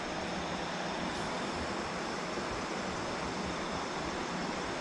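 A river flows near a road in an abandoned village, its steady broadband rushing wash continuous and even throughout, heard faintly at a distance with no voices.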